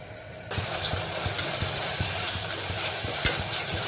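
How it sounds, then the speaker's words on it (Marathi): Large-diced pumpkin and other ingredients sautéing in oil, a dense loud sizzle starting abruptly, punctuated by rhythmic spatula scrapes and taps against the pan. "आता हे सगळं साहित्य मस्त परतून घेऊ याला तेल सुटेपर्यंत"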